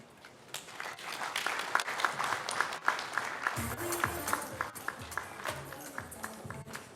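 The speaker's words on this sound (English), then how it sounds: "Please, we can make the applause louder" Audience applause at a public talk, a steady patter of claps throughout with a voice speaking over it in the second half.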